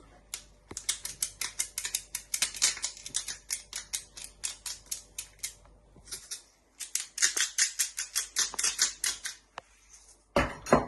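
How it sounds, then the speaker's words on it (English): Black pepper and salt being ground over a meatball mix give off rapid, dry, crackling clicks in quick bursts with short pauses between, close up, with no talking. "Now you want to add in some seasoning, starting off with a little bit of ground black pepper."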